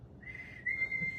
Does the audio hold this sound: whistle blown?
yes